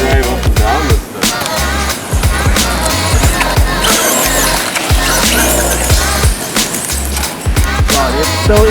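A Tamiya Astute TD2 RC buggy drives over rough terrain, its loud whining motor and rattling wheels running continuously close by, with repeated bumps and clatters as it climbs and drops.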